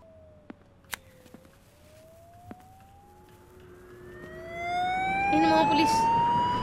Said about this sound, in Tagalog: It sounds like the police are here.